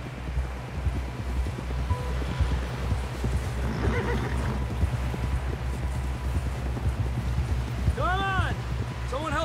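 Horse hooves clip-clop at a steady gallop in the Red Dead Redemption 2 video game, over a constant low rumble, with a sharp neigh rising near the end and voices talking faintly underneath.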